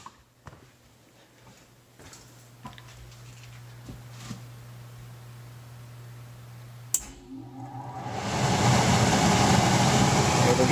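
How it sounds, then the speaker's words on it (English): A Goodman furnace blower fan, just fitted with a replacement blower board, starts up after a faint low hum and a sharp click, its broadband airflow rush swelling and holding steady and loud. "Switch the fan to on."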